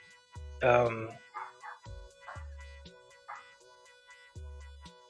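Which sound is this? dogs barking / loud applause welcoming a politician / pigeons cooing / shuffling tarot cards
dogs barking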